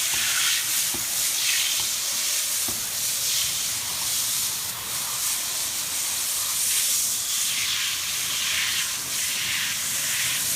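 Steady hissing water spray rinsing soap and dirt off a window blind, a continuous broadband wash that holds at an even level for the whole stretch with no voices.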